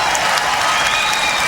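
Canned applause sound effect on a talk radio show, a steady, loud wash of clapping and crowd noise that fills the whole short stretch.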